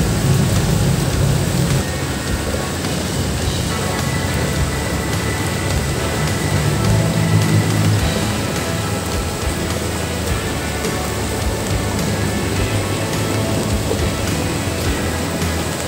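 Heavy rain falls steadily as a dense, constant roar at a river during a microfishing trip, with no pauses throughout.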